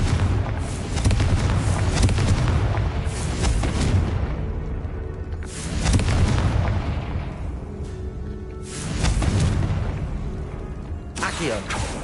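Confringo spell explosions in a wizarding video game, several loud, deep booming blasts rolling out in waves a few seconds apart over a rumbling background, with a player speaking during the action.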